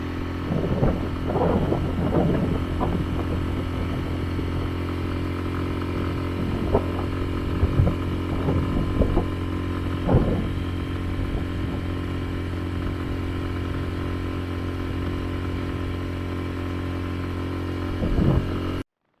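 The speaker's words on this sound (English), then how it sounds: "here is the sound of TOHATSU 6 horsepower outboard engine by full throttle" A Tohatsu 6 hp outboard boat engine running at full throttle, a steady droning hum held close and loud for the whole stretch, with some wind buffeting and faint knocks but no voices.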